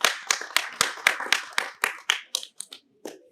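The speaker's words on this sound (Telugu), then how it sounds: "మోహన్ బాబు గారికి, విష్ణుబాబుకి ఒకసారి గట్టిగా క్లాప్స్ కొట్టు." A small group claps hands at a devotional gathering, a run of about fifteen sharp, close claps in a brisk rhythm that slows and thins out before stopping.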